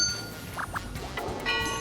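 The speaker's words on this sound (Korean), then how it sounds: "오늘 세 종목 모두 골든벨이 울렸습니다." Two quick, bright bell dings ring close together, clear and moderately loud over a faint background.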